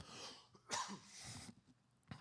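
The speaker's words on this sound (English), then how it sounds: "I have a cough, too." A single sharp cough bursts out close by, followed by a breathy aftersound and a softer second cough near the end.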